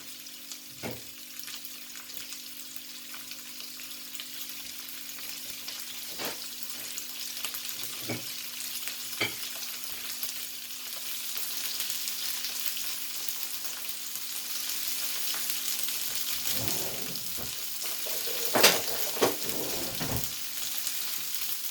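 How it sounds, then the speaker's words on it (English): Mackerel pan-frying at medium heat: a continuous sizzle grows louder over time, with scattered utensil clicks and a brief scraping stir near the end. "Medium size fry. I make them go and fry nicely."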